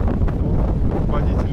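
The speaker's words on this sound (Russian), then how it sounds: "ветрище вообще нереально" Strong wind buffeting the microphone on a ferry deck crossing the Çanakkale strait, a loud continuous roaring rumble with gusty surges.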